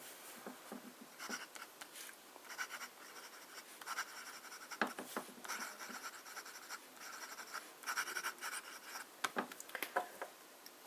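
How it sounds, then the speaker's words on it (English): Fine-tipped pen writing on paper, a steady run of soft scratchy strokes with brief pauses between words, close and quiet, with no voices. "so we're starting with some fine writing."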